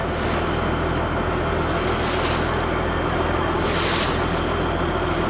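A Vietnamese anchovy fishing boat runs across open water at sunset, a constant loud wash of engine rumble, wind and rushing water without pause, no voices.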